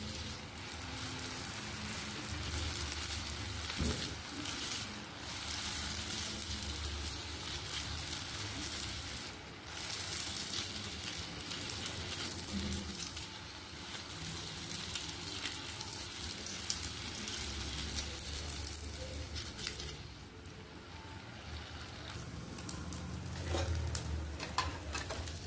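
Rose cookies deep-fry in hot oil on a gas stove, a continuous crackling sizzle like rain on a surface with occasional stirring clinks and soft pops, steady and close throughout.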